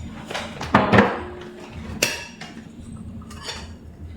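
New plates and bowls bought at IKEA clink and knock together as they are handled indoors, with a couple of sharp ceramic taps standing out among softer rattles.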